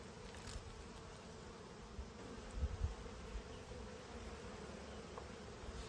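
Honey bees buzz steadily while a hive is opened for inspection ahead of winter, a soft, continuous drone close by with no talking.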